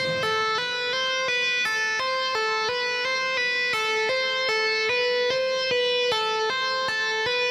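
Clean electric guitar playing a smooth, flowing legato riff of evenly spaced notes, repeating a rising and falling pattern in a steady rhythm, clear and up close.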